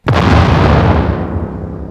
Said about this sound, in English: can be caused by a one-time exposure to an intense impulse sound, such as an explosion.